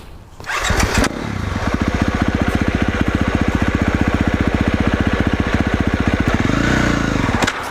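Motocross motorcycle engine on a dirt track, running loud and close with a steady, rapid pulsing drone and a brief rev swell near the end, with no talking.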